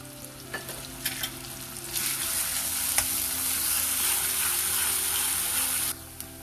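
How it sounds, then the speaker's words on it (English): Finely chopped onions fry with cumin seeds in a pot, a dense close sizzle swelling to a steady bright hiss, with a few spoon clinks and stirring scrapes early on before the sound cuts near the end. "The onions got fried."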